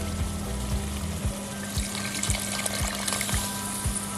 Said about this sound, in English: For me, I'll add a little bit more water